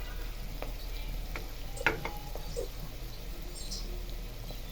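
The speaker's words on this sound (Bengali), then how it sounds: "পেঁয়াজ কুচি, রসুন কুচি এগুলোকে হচ্ছে একটু রেড ব্রাউন করে ভাজতে হবে" Chopped onion and garlic sizzle steadily in a pan as they fry toward red-brown, with a few scrapes and clinks of a spatula stirring, close and fairly quiet.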